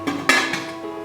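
A metal lid is set down on an idli steamer pot holding a batter dish on a rack, giving a few short clanks and a sharper knock, close and fairly loud against a steady kitchen hum.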